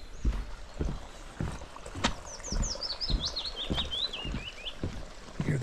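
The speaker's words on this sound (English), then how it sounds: "Hear the birds chirping." Small birds chirp in a series of high, quick tweets, fairly near, beside a peaceful little stream in the Glendalough valley of Wicklow, with soft footsteps or taps recurring underneath.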